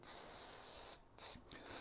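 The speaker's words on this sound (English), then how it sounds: "just some WD-40 that I'll spray in here" WD-40 sprays into a historic mortise lock in short hissing bursts, close and fairly quiet: one long spray, a pause, then a few quicker puffs.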